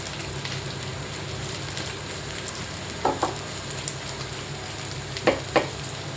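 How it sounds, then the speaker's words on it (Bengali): Dry fruits lightly frying in ghee and oil for rajma polao give a steady, close sizzle, with a few brief stirring scrapes and clinks of the spoon against the pan. "আরেকটু ঘি এবং তেল দিয়ে এখানে আমি দিয়ে দিচ্ছি ড্রাই ফ্রুটগুলো ড্রাই ফ্রুটগুলো এখানে হালকাভাবে দিয়ে দিচ্ছি এবং হালকা করে ভেজে নিচ্ছি"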